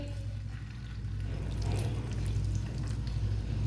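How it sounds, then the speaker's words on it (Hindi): Small portions of pakora batter paste dropped into well-heated frying oil set off a bubbling sizzle that swells after the first second and stays loud and steady. "ऑयल को मैंने अच्छी तरह गर्म कर लिया है। अब इसमें ये थोड़ा थोड़ा पेस्ट लेंगे।"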